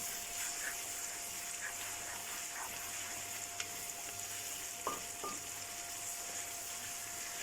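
Onions and masala fry in a pan over a low flame, a constant close sizzle with a few soft stirring knocks and clinks.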